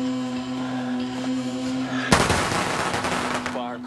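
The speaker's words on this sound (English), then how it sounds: "Firecrackers." A burst of sharp, rapid pops crackles suddenly after a steady hum, loud and close, trailing off over a couple of seconds.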